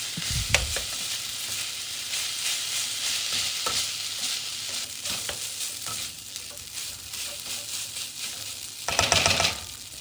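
Pineapple fried rice seasoned with dark soy sauce and fish sauce being stirred in a sizzling pan, a continuous frying hiss broken by scattered spatula clinks and scrapes, with a louder burst of clatter near the end.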